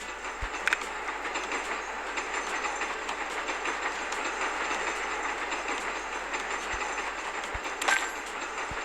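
A train rolling on rails in the Train Station 2 game gives a continuous rumbling run with occasional sharp clicks and clacks. The sound is steady and fairly loud, with no talking.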